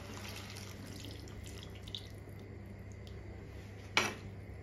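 Ground coconut paste thinned with water is poured into a prawn curry, a faint, soft liquid trickle and splash in a quiet kitchen, with a brief sharper splash near the end.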